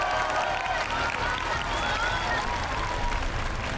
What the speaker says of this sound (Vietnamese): Vỗ tay mọi người, cổ vũ cho ba khách mời của chúng ta ăn.